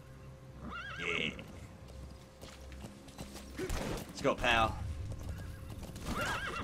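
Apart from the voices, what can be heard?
horse hooves and neighing in the video game Metal Gear Solid V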